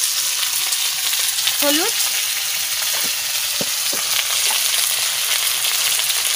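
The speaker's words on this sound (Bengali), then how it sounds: "তেজপাতা একটু উনুনে সেকে দিয়ে দিচ্ছি।" Bay leaves frying and crackling in hot oil on a stove, a steady broadband sizzle running throughout with a few light stirring scrapes and clinks over it.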